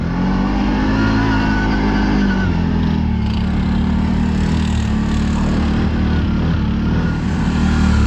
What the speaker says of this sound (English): John just climbed in two-wheel drive with the Grizzly.